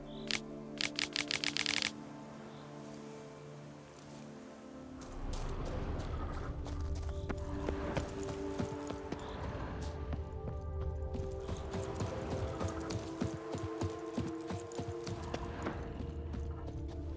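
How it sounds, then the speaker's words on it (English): A horse-drawn merchant's wagon with wide, heavy wheels rolls along in The Witcher 3: Wild Hunt, hooves clopping in a steady rhythm beside creaking, rumbling wheels, preceded by a short burst of rapid clip-clop, close and continuous. "Wide, heavy wheels. A merchant's wagon."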